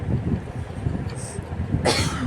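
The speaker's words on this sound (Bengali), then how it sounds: "খুব কাশি হচ্ছে" A child eating rice for the first time lets out a single short, harsh cough near the end, following a stretch of low background murmur.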